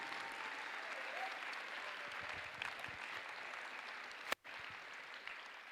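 An audience at a FIRST Tech Challenge robotics qualifier applauds, a steady wash of clapping heard from across a hall, with one sharp thump near the end.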